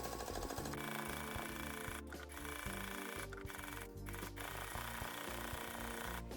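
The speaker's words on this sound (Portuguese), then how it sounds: "Agora, na máquina, passamos uma costura em volta, deixando a parte da sanfona sem costurar" A sewing machine runs continuously while stitching around a fabric piece, a rapid mechanical chatter with a steady motor hum and a few brief dips in speed, faint and alone without talk.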